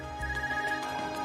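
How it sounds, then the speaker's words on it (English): An Arcus communication device ringing in the Trails of Cold Steel video game, a steady electronic ringtone tone with soft repeated pulses, heard alone without talk. "Is that your Arcus ringing?"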